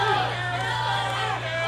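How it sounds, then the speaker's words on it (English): A wrestling arena crowd at an OVW show at Davis Arena roars steadily for Tony Gunn, a dense, continuous hubbub of cheering and chatter with a low steady hum underneath, loud and sustained throughout. "This crowd coming alive for Tony Gunn so much I can barely even hear you guys."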